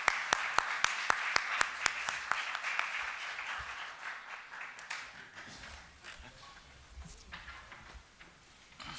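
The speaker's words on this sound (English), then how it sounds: "please, let's give them a big applause to this year's Nobel laureate." An audience at a Nobel laureates press conference at the Royal Swedish Academy of Sciences claps, starting with a few sharp, evenly spaced claps that swell into soft, steady applause and gradually fade.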